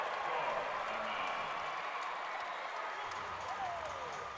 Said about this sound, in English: that gets a long ovation from the crowd